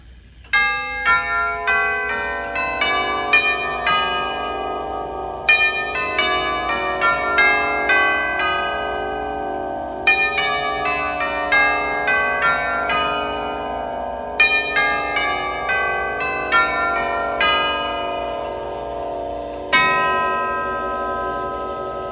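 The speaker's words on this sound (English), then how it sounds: "It's a gorgeous clock, and I think it's about time we hear it chime." A 1910 Bawo & Dotter nine-tube grandfather clock with a German Winterhalder and Hofmeier movement rings a long chime sequence, resonant tubular bell notes struck one after another and ringing on, close and clear with no talk.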